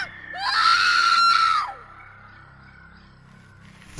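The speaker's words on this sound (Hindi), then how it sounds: "तभी अचानक एक औरत की भयानक चीख पूरे टनल में गूंज उठी।" A woman's loud, terrifying scream in an animated horror story, echoing through a haunted tunnel: one long, high, wavering shriek that swells and then fades, followed by a faint lingering reverberant tone.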